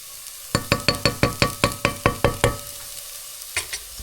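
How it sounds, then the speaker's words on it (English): Shallots sweating in a pan, with a soft sizzle under a quick run of about ten sharp, close taps as they are stirred, then two more taps after a pause. "So right now, what you see me doing is I am sweating these shallots"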